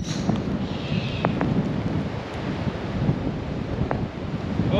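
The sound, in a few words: wind blowing on a golf course during a storm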